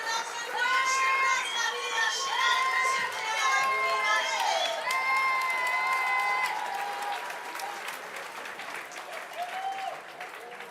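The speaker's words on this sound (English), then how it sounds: "you'll hear the crowd in the background screaming for Pierre Puybarret" A crowd at a STIHL Timbersports European Trophy 2022 competition screams, cheers and claps for a French champion athlete, loud and sustained, with high shouted voices over continuous applause that gradually tapers off.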